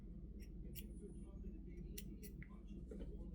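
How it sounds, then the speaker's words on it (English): Scissors snip loose threads off freshly sewn fabric tubing made on a Juki TL 2000 Qi, giving a few short, crisp cuts over a steady low hum. "I gotta snip those little threads off there"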